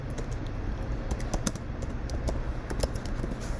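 Quick keystrokes on a computer keyboard, entering a search term for a craft project, with a steady run of light clicks close up over a faint background hiss.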